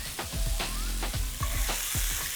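Beef browns in a hot pan with a loud, dense sizzle and crackle, punctuated by quick stirring knocks and scrapes throughout.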